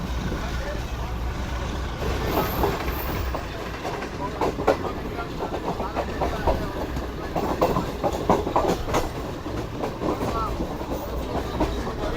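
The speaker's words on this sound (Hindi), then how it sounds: "तो ये कोई ट्रेन आ रही है इस वक्त मेरे सामने से" A train on the Karachi to Lahore line passes close by with a steady rumble and rhythmic clickety-clack of wagons over the rails, loud throughout.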